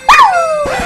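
A boy imitates a dog, giving one loud, close, rising-then-falling yelp like a bark or howl, with a short second voiced sound at the end.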